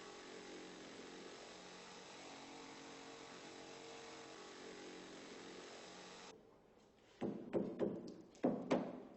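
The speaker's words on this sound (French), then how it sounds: "nous la découpons à la scie sauteuse" A steady mechanical buzz of a jigsaw cutting a door frame rebate for several seconds, then stops, followed by a few hollow knocks and thuds on wood.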